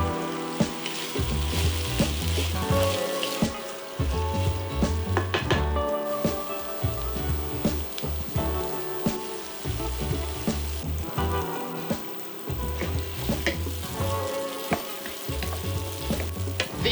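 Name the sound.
onions, carrots and peppers sautéing in vegetable oil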